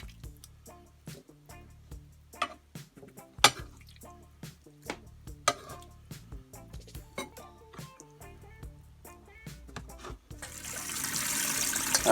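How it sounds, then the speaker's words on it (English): Leeks are handled in a colander with clinks and knocks, then a tap opens and running water rushes loudly through them at the end, close by and without talk. "chuck them in a colander, get plenty of water run through them, check there's no grit in them"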